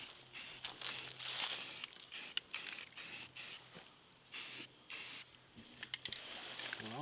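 Short bursts of aerosol spray paint hiss onto a rifle, coming in an irregular series of close, loud spurts separated by brief pauses.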